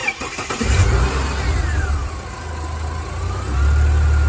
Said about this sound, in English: That's the compressor cutting in, normal.